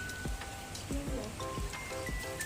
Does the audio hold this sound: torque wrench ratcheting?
no